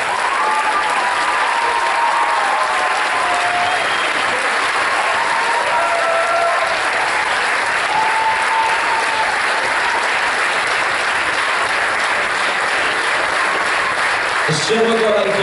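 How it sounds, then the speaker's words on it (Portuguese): Sustained applause from an audience at a Portuguese Socialist Party local election candidate presentation in Entroncamento, steady clapping filling the whole stretch, loud and continuous, with a brief louder burst near the end. "A salva de palmas para Jorge Manuel Augusto Faria."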